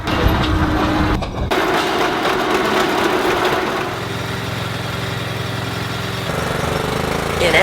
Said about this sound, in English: In engine side, they pull the wires.